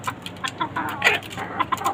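A desi (native breed) chicken clucks repeatedly in short, close bursts, with soft background farmyard noise on a rooftop farm.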